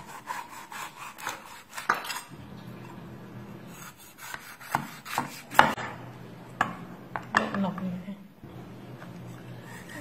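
A knife fillets a fish, cutting away the meat for a steamed dish with scallion and ginger. Close, intermittent scraping and rasping strokes sound with sharp cuts between them, and some speech is heard alongside.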